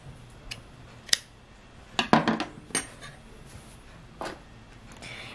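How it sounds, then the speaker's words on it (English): Scissors snip through white crochet yarn, a couple of crisp close metallic clicks and a quick cluster of cuts amid quiet background handling. "you're gonna cut your white yarn"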